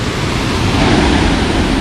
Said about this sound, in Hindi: यहाँ वाटरफॉल है